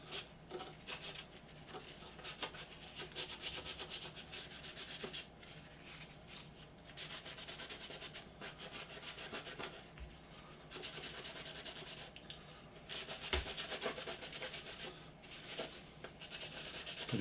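Steady dry rubbing on a Revell Star Destroyer plastic model to pull away wash, faint close strokes in uneven bursts with short pauses.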